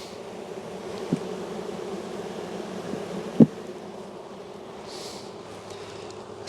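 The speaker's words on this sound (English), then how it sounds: "It's just a lot of bees." Dense, steady buzzing of many honeybees rises from an open, massive hive during an inspection, close and even, with a couple of faint knocks and no speech.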